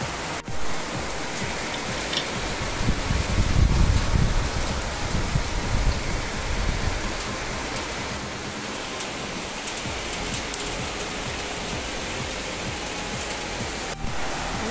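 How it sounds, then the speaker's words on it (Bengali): Heavy rain pours down in Kalyani as a dense, constant roar of drops with a brief deeper rumble early on, steady and unbroken throughout with no voices. "কল্যাণীতে এখন মুষলধারে বৃষ্টি হচ্ছে।"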